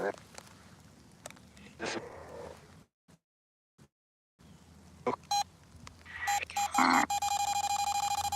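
A mobile phone beeps at 3AM in a dark cemetery in Britain: after quiet rustling and a near-silent gap, a few short electronic bleeps sound, then a sustained tonal chime rings out to the end.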